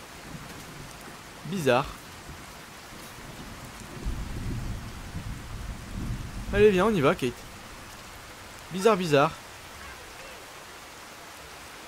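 Steady rain falls in Fallout 4 as a constant hiss with low rumbling swells, while someone speaks in short bursts over it.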